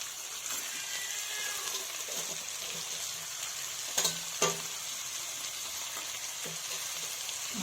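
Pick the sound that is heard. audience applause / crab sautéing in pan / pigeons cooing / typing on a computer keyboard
crab sautéing in pan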